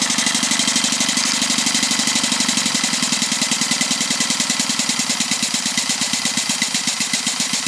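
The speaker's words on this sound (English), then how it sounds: "This is obviously very well set up valve-wise, etc., because it idles lovely" A coal-fired Maxitrak 1-inch scale Burrell agricultural traction engine idles on about 20 psi of steam, giving a steady, even stream of soft exhaust beats close by with no talk over it.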